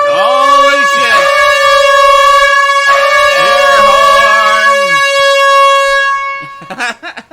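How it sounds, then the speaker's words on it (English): A loud, sustained air horn blares in long blasts, briefly dropping and restarting, with a voice breaking in near the end as it cuts off. "Air horn!"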